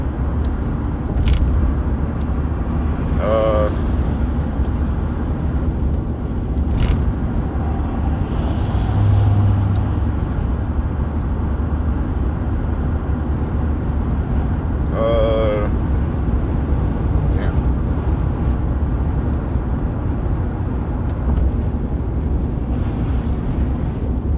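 A car rolls along slowly in transit, its steady low engine and road rumble filling the background while someone talks over it throughout.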